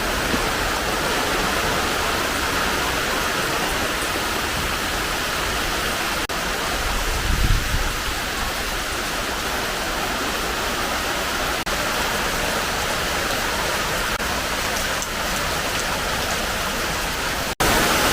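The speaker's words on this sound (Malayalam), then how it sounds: "നല്ല കാറ്റും മഴയുമാണ്" Dense, steady downpour roars without a break, a broad hiss of heavy rain with gusts of wind swelling briefly, loud and continuous.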